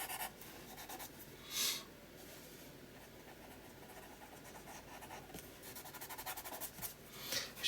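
Pencil shading on watercolour journal paper, a steady close scratchy rubbing of graphite that runs continuously, with a few brief louder strokes along the way.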